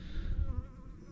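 Buckfast honey bees buzz close by at a hive, a brief low droning hum with no voices.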